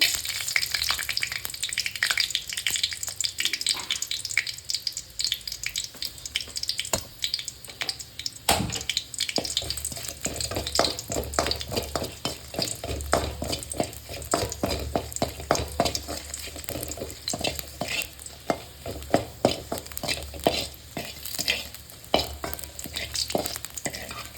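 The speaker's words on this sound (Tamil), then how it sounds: "கொஞ்சமாக எண்ணெய் ஊற்றிக்கலாங்க. வரமிளகா வறுத்து எடுத்துக்கலாங்க." Dried red chillies frying in a little oil in a pan, a continuous close crackling sizzle with dense pops and occasional stirring scrapes, no voices.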